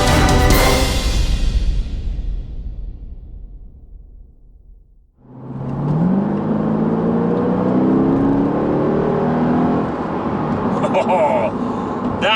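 Mercedes SLK55 AMG engine revving while driving, a loud sustained roar that fades away, goes quiet briefly, then climbs back through rising gear pulls under faint talk.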